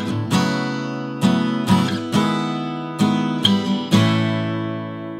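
Acoustic guitar strummed in a down-down-down-up pattern on a verse section of a song, with seven bright, ringing chord attacks in steady rhythm, close and loud with no voices.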